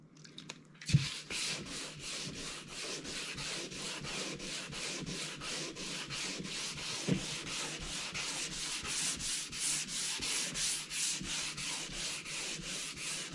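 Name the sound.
hand sanding a fiberglass Corvette hardtop with sandpaper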